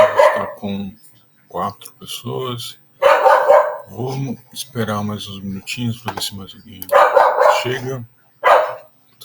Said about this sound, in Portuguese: tem um cachorro latindo aqui do lado